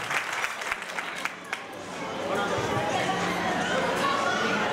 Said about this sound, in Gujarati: ભાણા આંબા દુબરિયા એ ફરીથી ચાન્સ લે છે એટલે જોરદાર તાળીઓ વધાવજો.